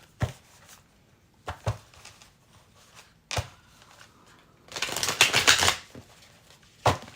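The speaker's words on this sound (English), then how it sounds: "Get a couple of shuffles in there." Tarot cards being shuffled by hand, a series of brief crisp riffles and taps spaced a second or two apart, then a longer louder burst of flicking cards before one final snap, close and alone.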